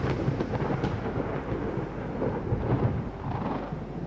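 Continuous thunderstorm ambience from the naval game Ultimate Admiral Dreadnoughts, with low rolling thunder under steady rain and rough sea noise, dense and unbroken throughout with no voices.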